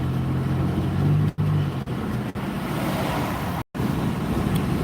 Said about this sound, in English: You can hear the tires. Some tires make a lot of road noise.